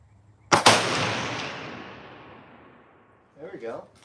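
A single sharp shot from a Ruger American Gen 2 Predator bolt-action rifle at a shooting range cracks loudly and rings out in a long fading tail, followed by a brief voice.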